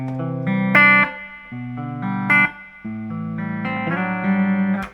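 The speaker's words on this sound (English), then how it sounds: "it's a nice reverb unit" A Carlsbro ADR1 analogue effects unit adds reverb to sustained, slightly distorted electric tones, each chord swelling and then dying away in a washy tail across several loud phrases, with no talking.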